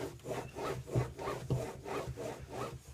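A hand plane blade is rubbed back and forth on a sharpening stone in steady, even strokes, about five close, rhythmic scraping passes with no speech.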